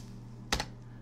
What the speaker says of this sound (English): I'm just going to type git clone